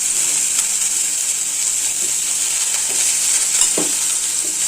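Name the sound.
sautéing chopped eggplant and curry leaves for chutney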